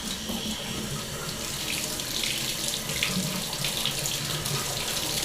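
Water runs steadily from a bathtub shower faucet with handheld trim, a constant broadband rush at close range, unbroken for the whole stretch with no voices.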